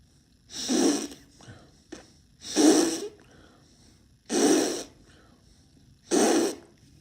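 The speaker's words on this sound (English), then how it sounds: "when you're sniffing the breath, you blow air out of your cheeks" Four strong, evenly spaced bursts of breathy air, each a sharp sniff-and-blow rush, separated by short quiet gaps, close and loud with no talking.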